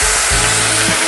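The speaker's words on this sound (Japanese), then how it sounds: "鍋肌から醤油。" Loud, close sizzle as soy sauce is poured along the hot edge of a pan of kimchi fried rice, a dense hissing roar filling the short moment without any talk.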